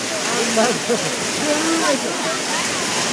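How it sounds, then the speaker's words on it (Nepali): Water splashing and rushing steadily in an outdoor Kirat Rai wedding setting near Gaighat, a continuous broadband wash with scattered splashes, with people talking over it throughout. "कस्तो छड्के पानी आयो त"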